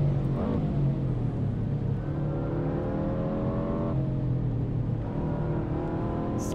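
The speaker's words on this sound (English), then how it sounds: "Kind of just banging through the gears here." A 2022 Subaru WRX in a racing simulator on the Tail of the Dragon road revs hard through several gear shifts, its engine pitch climbing and dropping with each change in a continuous close drone.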